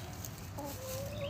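A battery hen on a farm gives soft low clucks and a brief rising tonal call, faint and close, against a quiet background hum.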